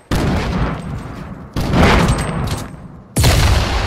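Grenade explosions in a third-person shooter video game, three loud booming blasts in a row about a second and a half apart, each with a sharp onset and a roaring tail.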